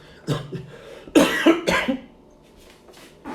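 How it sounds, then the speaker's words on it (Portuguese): Several coughs in quick succession, close and fairly loud, with a harsh rasp, then quieter breathing and faint rustling. "Ai, essa tosse."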